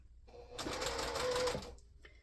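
A sewing machine stitches quilt rows together in one short, steady run of rapid whirring lasting about a second, close and fairly quiet, starting and stopping cleanly.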